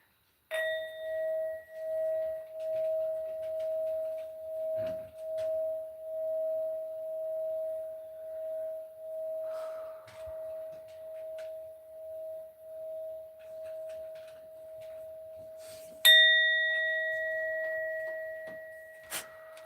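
A bell struck twice, each ring a clear, sustained metallic tone that pulses and slowly decays, the second strike louder and bright, with quiet surroundings between.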